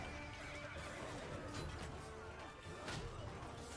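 A horse whinnies in a Realm of Thrones battle mod, faint and distant amid a continuous clatter of combat noise, with no voices over it.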